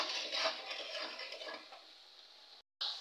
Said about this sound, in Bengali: চলছে আমার মশলা কষানো